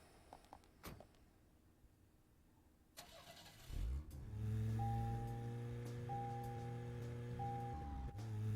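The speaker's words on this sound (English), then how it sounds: "Now to get back in our car and drive real far." In the video game Deadly Premonition, a car door thuds, the engine cranks and catches, then settles into a steady rising drone with a tonal hum as it pulls away, after a few faint clicks, with no talking.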